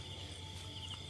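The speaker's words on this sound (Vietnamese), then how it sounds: "Dế kêu ta." Crickets chirp steadily in a rice field, a faint continuous trill with a thin high tone under quiet outdoor ambience.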